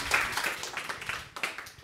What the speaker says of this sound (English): Maybe clap now.